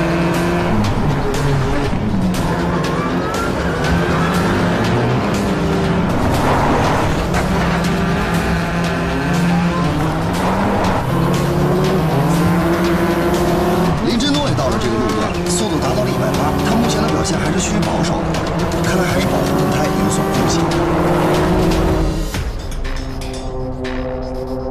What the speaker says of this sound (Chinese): 魏千里率先进入赛道，他把速度加到了惊人的205公里